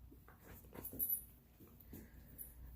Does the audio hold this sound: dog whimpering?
yes